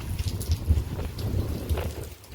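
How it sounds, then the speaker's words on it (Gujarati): Gentle, steady rain falls with a soft, even patter and some wind, continuous and fairly near with no voices. "આવો છે વરસાદ અમારે."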